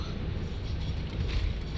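A train from the factory-building video game Satisfactory rumbles past close by, a steady low-frequency roar with rattling wagon noise that swells slightly toward the end.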